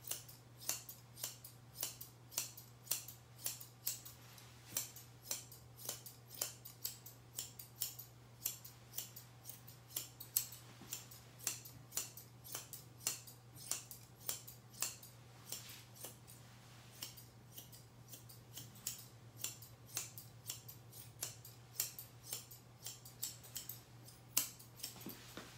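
Scissors snip repeatedly through a Kerry Blue Terrier's coat while trimming a leg during grooming in a non-traditional style, a fast, steady run of close, crisp cuts over a low constant hum, with no talking.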